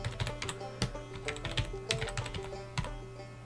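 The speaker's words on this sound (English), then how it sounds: "and I can now type in" A URL being typed on a computer keyboard: a short, close run of irregular light key clicks with a few firmer taps, heard on its own.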